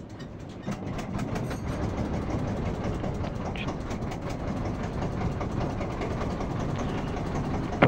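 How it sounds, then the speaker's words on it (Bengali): A trawler boat's engine runs after starting on the Buriganga river, a continuous low rumbling chug with a steady mechanical rattle that holds even and moderately close, without a break, for the whole stretch. "মাস্টার ট্রলার ছাড়ার জন্য স্টার্ট দিচ্ছে মেশিনের।"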